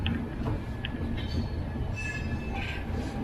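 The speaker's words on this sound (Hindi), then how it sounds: "हमारी ट्रेन मुड़ चुकी है न्यू दिल्ली वाली लाइन की तरफ" The 12107 Mumbai-Sitapur SF Express rolls along the line, heard from aboard as a steady loud rumble of wheels on rail with intermittent high squeals from the wheels.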